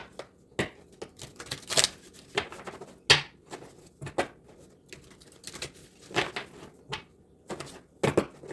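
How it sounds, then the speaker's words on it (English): Tarot cards being shuffled in hand, a run of soft irregular riffling and slapping bursts with short pauses between them, close and fairly quiet, no talking. "One more shuffle."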